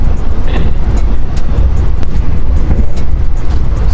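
Steady low rumble of a passenger train in motion, heard from inside a KA Mataram economy class new generation coach travelling between Jakarta, Yogyakarta and Solo, with continuous rail noise and faint clicks throughout and no talking.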